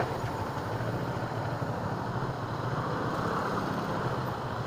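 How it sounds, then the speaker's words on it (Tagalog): Road traffic in Luzon, Philippines, with idling engines forming a steady, close, even rumble throughout and no clear voices. "Traffic."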